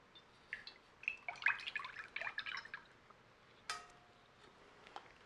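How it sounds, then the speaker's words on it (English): Melted lard pouring from a container into a bowl while making bar soap, heard as a quiet series of wet drips and short splashy trickles for a few seconds, followed by one brief clink and faint drops. "I'm gonna dump the lard into my bowl."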